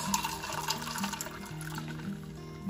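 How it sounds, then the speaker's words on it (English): Iced tea poured into a cup over ice, a quiet steady liquid trickle lasting a few seconds with no talking, ending in a brief clunk. "Let's pour a cup because we must try, of course."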